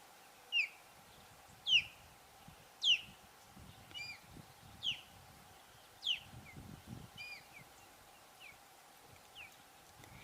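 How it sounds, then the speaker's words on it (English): A large bird repeats a sweet, clear call outdoors on a tour, about eight evenly spaced descending notes over low background rumble and faint footsteps. "It's a very sweet sounding call for such a large bird, you know."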